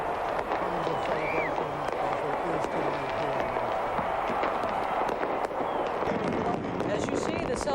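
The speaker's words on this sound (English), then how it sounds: "As you see the fireworks, the pyrotechnics going off" Fireworks and pyrotechnics bursting over Red Square in Moscow at the midnight Millennium 2000 celebration, scattered pops and crackles amid a large crowd's roar, partly under a broadcaster's commentary.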